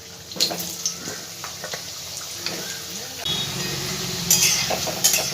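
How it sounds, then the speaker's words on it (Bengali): Potato pieces frying in hot oil in a home kitchen while preparing masoor dal dhokar dalna, a steady close sizzle and bubbling hiss with a few clinks of utensils, getting louder toward the end. "ঠিক একইভাবে বাকিগুলো আমি ভেজে নেব। আলুগুলো ভেজে নেব।"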